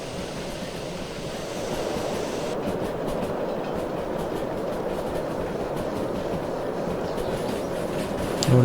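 Steam locomotive from the video game Derail Valley rolling steadily along the track, a continuous loud rumble of wheels and rail noise with faint clickety-clack, constant in level throughout with no talk.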